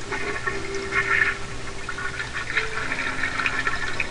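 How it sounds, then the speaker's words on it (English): A toilet flushing at close range, a steady watery rush with gurgling that holds for about four seconds, with no talking over it. "You flush the toilet."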